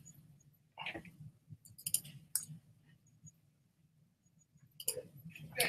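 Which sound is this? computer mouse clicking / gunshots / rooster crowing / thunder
computer mouse clicking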